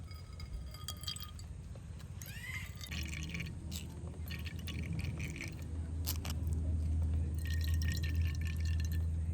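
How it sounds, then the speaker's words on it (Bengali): Liquid strained through a kitchen sieve, with trickling and dripping building steadily alongside light clinks of glass and utensils, close and fairly quiet throughout. "সেটা এইভাবে ছাঁকুনির মধ্যে দিয়ে দেব আমাদের লিকুইডটা দরকার তো সেই জন্য এইভাবে খুব সুন্দরভাবে কিন্তু লিকুইডটা বার করে নেব"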